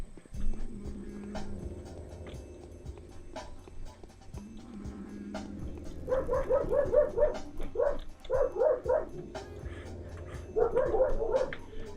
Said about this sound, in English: Oh my god, those dogs.